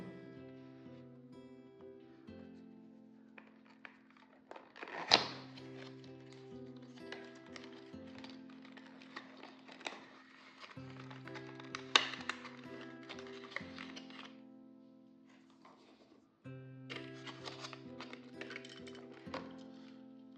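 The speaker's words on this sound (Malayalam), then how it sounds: "സോ നമുക്കിത് അൺബോക്സ് ചെയ്ത് കാണാം." A Mini GT Lamborghini diecast model being unboxed, with soft close taps, crinkles and small clicks of packaging handled at intervals, over quiet steady background music and no talk.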